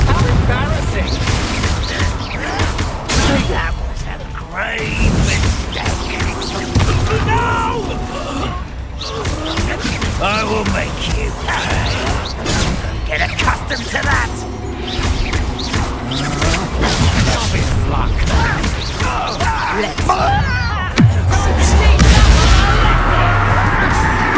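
Confringo spell blasts go off in the Hogwarts Legacy video game amid dense combat noise, with booming impacts and crashes layered under game music and character voices throughout.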